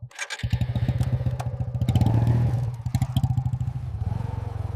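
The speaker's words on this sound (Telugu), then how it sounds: "Bike stop please." Motorcycle engine running close by with a rapid, regular putter that swells into a louder rev midway, then settles back into a steady pulsing idle.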